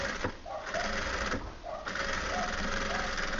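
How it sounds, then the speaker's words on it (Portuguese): A sewing machine runs close and loud, stitching strips of denim together in continuous bursts broken by two brief pauses. "E agora é só ir costurando cada tira"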